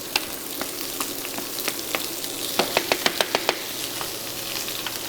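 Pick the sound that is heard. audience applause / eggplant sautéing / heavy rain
eggplant sautéing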